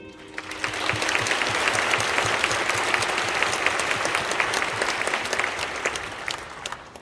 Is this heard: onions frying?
no